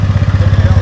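A rented scooter engine idles up close in Pokhara, Nepal, with a fast, even putter that pulses steadily and loudly through a brief moment.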